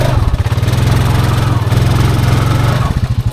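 Honda Foreman ATV engine running in two-wheel drive while approaching a mud hole, a loud, close, chugging low throb with a fast regular pulse, steady throughout.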